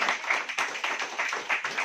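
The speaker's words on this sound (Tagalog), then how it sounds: "Palakpak nga po sa ating pong Panginoon" A church congregation clapping for the Lord at an anniversary service, with many hands beating a steady, brisk rhythm of close, even claps and no speech.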